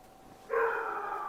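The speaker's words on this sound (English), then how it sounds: "And there goes the dog." A dog gives a single close, drawn-out bark or yelp that starts abruptly and holds for most of a second, heard alone over a quiet background.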